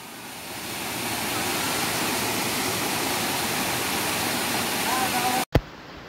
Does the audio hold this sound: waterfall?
yes